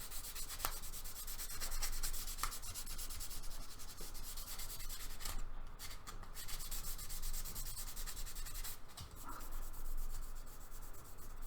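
Hand sanding a Jaguar E-Type body shell with 1000 grit paper to key the surface and remove earlier scratches: close, steady back-and-forth rubbing strokes with a dry, papery rasp, with no voices.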